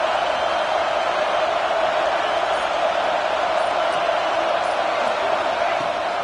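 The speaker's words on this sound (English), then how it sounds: "The roar of the crowd trying to fuel this defense to keep them pinned in their own end" Steady, dense crowd roar filling a football stadium during a Georgia vs Oregon game, a continuous wash of voices from many fans with no breaks or distinct individual calls.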